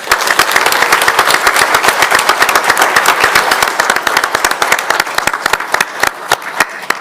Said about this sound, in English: rousing round of applause.